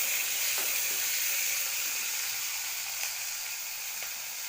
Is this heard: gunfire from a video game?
no